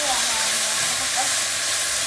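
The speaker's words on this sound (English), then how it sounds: "Oh yeah, they're frying up nice." Mushrooms and onions frying in a Dutch oven give off a steady, close sizzling hiss that holds evenly throughout.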